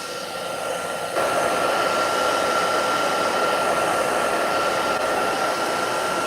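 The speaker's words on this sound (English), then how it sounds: "I'm gonna make sure this is dry with my hairdryer, super quick" A hair dryer runs steadily with a constant whooshing roar and a high whine, kicking up louder after the first second and holding for the rest.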